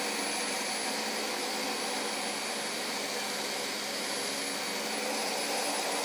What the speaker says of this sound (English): Do you like the vacuum?